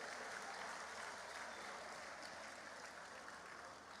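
Distant, faint applause from an audience at a Lagos State Records and Archives Bureau event honoring the Lagos State Troop, a continuous even patter of clapping sustained throughout.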